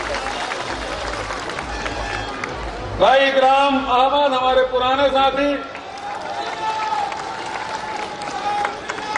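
Crowd applause and cheering at a public rally during a chief minister's town meeting in Birgaon, loud clapping swelling midway and continuing under a man's amplified speech over a PA.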